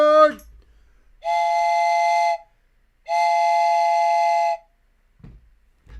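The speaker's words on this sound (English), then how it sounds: "Oh, finally the train is here." A steam train whistle sounds two long, loud, steady blasts separated by a short pause as the train arrives, with brief vocal sounds at the start and end.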